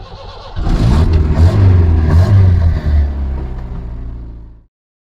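Zastava 101 car with a 1.1 liter engine, an old scrapyard rescue, revving loudly up close with a rough, rising and falling engine note for several seconds before it cuts off abruptly.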